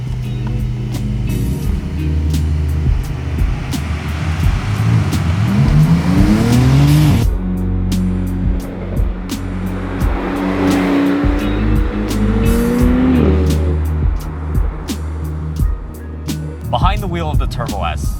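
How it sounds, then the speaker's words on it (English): A 2021 Porsche 911 Turbo S is driven hard on the road, its engine rising and falling through repeated gear changes and climbing revs, with tire noise and a person talking throughout. "the only thing left to do is to take it out for a spin"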